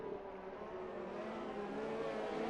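Race car engines in a sim racing Grand Prix drone steadily at a distance, a faint continuous hum of cars running at reduced pace behind the safety car.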